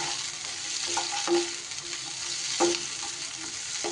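Spice masala with cashews frying in a pan gives a steady close sizzle, broken by a couple of louder scraping stirs, with no voices.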